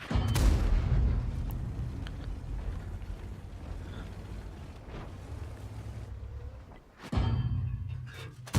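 A tank cannon firing in the World of Tanks video game, a heavy boom at the start that fades into wind-like rumble, then a second loud blast near the end.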